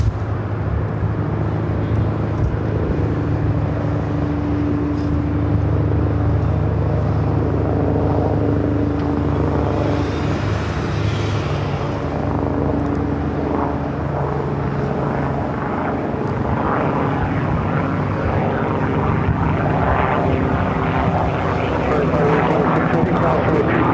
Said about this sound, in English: Next arrival is American Airlines Flight 2408 coming up from Philadelphia, an A321 Neo